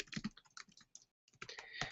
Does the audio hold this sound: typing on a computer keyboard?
yes